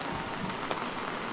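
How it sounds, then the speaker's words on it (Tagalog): Steady, moderate rain falls on an offroad trail in the Philippines, a continuous even hiss of drops on surfaces with no talk. "walang tigil yung ulan hanggang ngayon. Hindi naman sobrang lakas ng ulan"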